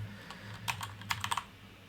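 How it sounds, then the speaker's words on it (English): A few sharp keystrokes type into a search bar on a computer keyboard, close and clear over a faint low hum, with a short burst of clicks near the end. "So if I just type in under the search bar,"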